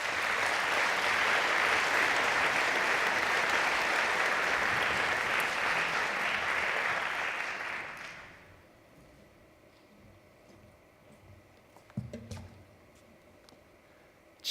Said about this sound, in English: arriving at the podium after the applause has ended